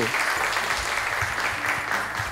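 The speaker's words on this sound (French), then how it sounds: "Merci de l'applaudir pour l'accueillir" A studio audience applauds on a television game show, a dense, steady wash of clapping that fills the whole moment and tapers slightly at the end.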